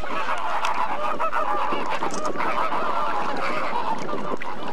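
Pink flamingos calling on the warm waters of a lagoon, a dense continuous chorus of honking, goose-like calls from a flock that keeps up steadily throughout with no voices.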